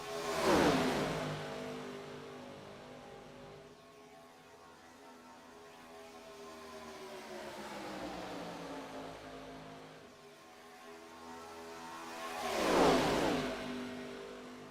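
Race cars jockey for position at Daytona in a racing video game, engines droning steadily as two loud passes whoosh by near the start and end with a quieter hum between.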